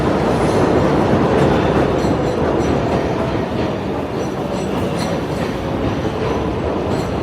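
Train passing in New York City, a loud continuous rumble and rattle of rail cars with clattering wheels, sustained and close throughout with no voices.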